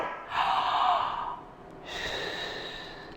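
Deep breaths taken close up by a singing teacher demonstrating a breathing exercise, inhaling through the mouth with the lips stretched vertically: two long, airy breath sounds in a row, with no talk.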